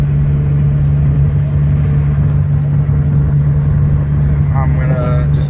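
A Toyota Corolla with an upgraded intake, fuel injectors and throttle body cruises along with a steady engine hum and road rumble from inside the car.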